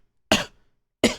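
A man fakes two short, throaty coughs in imitation of Ethan Klein's cough, close and clear, separated by a brief pause.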